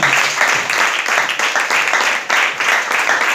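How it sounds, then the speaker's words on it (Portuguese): A church congregation applauds steadily, dense clapping that swells and dips slightly over a few seconds. "Louvando Jesus com mais um salve de palmas"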